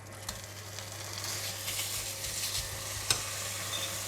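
Minced pork stir-fries in a pan for rice vermicelli with prawns, giving a steady sizzle with scattered scrapes and taps from stirring, fairly quiet, with a low hum underneath.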